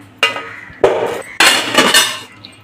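Crispy fried papdi puris set down onto a plate during plating of sev puri chaat, giving three short clattering bursts of crunchy clinks and rustles, close and fairly loud.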